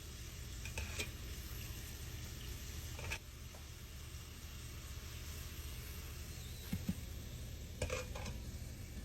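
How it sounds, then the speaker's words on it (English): Empanadas filled with truffle, mushroom and Gouda fry in peanut oil at about 350 degrees, giving a faint, steady, low bubbling hiss with a few soft clicks and clanks of utensils. "we have our peanut oil up to about 350 degrees, and we're just going to drop them right inside there"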